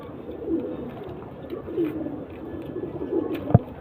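Soft cooing from a pair of abluk pigeons, several low murmured coos close by over a quiet background, with a brief sharper sound near the end.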